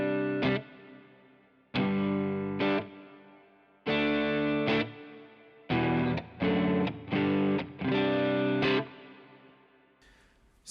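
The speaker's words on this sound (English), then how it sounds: "So this is what my reverb normally sounds like. I have it on the hall setting." Electric guitar through a reverb pedal set to hall, played as distorted chords in short stabs and longer held strums, each decaying into a lingering wash of reverb between hits.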